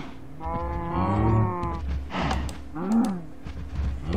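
Cattle mooing in the block-building survival game Agrarian Skies, several drawn-out harmonic lowing calls one after another, fairly loud and close, with no talking over them.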